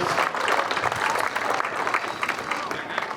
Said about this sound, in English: let's get a round of applause for those 3 amazing individuals